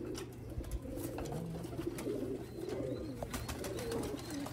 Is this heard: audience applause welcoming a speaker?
no